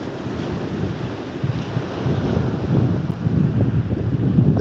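Steady wind buffets the microphone on a cold January beach, with a broad continuous roar of surf rising slightly toward the end; no one speaks.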